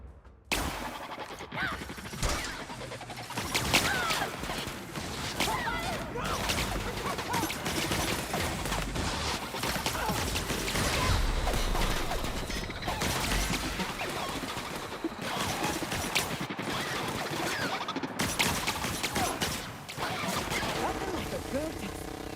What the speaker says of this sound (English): Try this gun out.